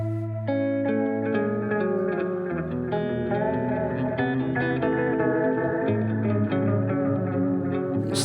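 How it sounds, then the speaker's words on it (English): A random modulation effect on an effects unit warps a sustained, harmonically rich synth-like tone into a continuous wavering, shifting drone with loud, steady level and no talk. "Let's hear the random modulation."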